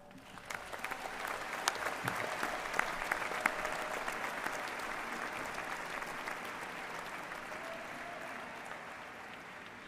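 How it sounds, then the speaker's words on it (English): A large crowd at a University of Kentucky commencement ceremony applauds steadily, a dense wash of clapping that holds at an even level throughout. "show thanks to everyone who makes up each of our individual fan clubs with a huge round of applause"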